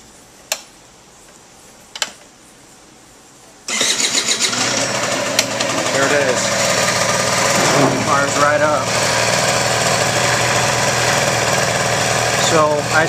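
A few faint ticks, then a 1985 Honda Aero 50 scooter starts up and settles into a loud, steady, high-pitched two-stroke idle with small wavering revs, close to the microphone.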